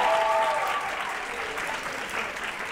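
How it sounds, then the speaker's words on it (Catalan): A studio audience on a Catalan TV spelling quiz applauds a contestant's correct answer, a brief, even wash of many hands clapping at moderate loudness, close and continuous, with no talk. "aplaudiu, aplaudiu"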